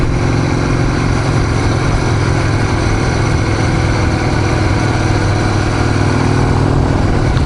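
A custom Harley-Davidson XR883 motorcycle engine runs loud and close with a steady, throbbing low rumble that holds even throughout.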